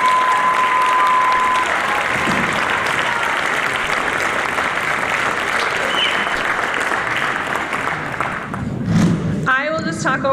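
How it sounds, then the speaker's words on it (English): A large concert audience applauds music and theater scholarship awardees, loud, continuous clapping that fills the room before it thins out near the end, where a voice starts to speak. "let's give more tons of applause to our fabulous Rotary Music and Theater Scholarship awardees"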